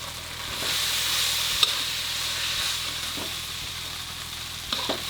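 Rice stir-fried with shrimp paste in a wok, a soft continuous sizzle broken by a few sharp scraping clanks of the spatula.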